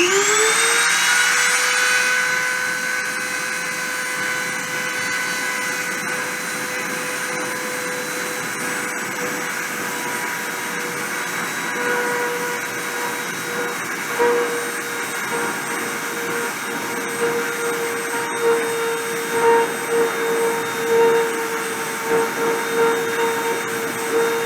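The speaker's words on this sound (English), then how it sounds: "I'm going to start the spindle" WIN Pro printer spindle spinning up and running during deposition, a loud steady high-pitched whine with a rising tone at startup, then holding constant with slight fluctuations and faint mechanical clicks.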